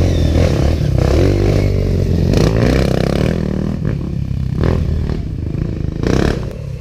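Several 125cc dirt bikes ride a rough trail at the Kaloré trail event in Paraná, their engines loud and close, buzzing and revving in rising and falling surges with rattles and scrapes from the bikes.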